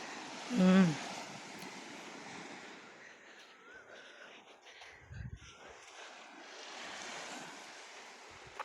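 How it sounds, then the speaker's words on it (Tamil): Small, gentle sea waves washing onto a shallow beach; a soft, low surf wash with wind noise, faint and rising and falling, with a brief thump near the start. "குட்டி குட்டி அலையாக வருது. இங்கே பெரிய அலை வராது."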